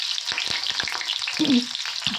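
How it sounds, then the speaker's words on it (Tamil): Onions fry in hot oil in a kadai, giving a steady, bright hiss and sizzle with a few soft knocks as they are stirred, close and continuous, with no one talking. "ஆயில் ஹீட் ஆனதுக்கப்புறமா வெங்காயம் போட்டு நல்லா வதக்குங்க"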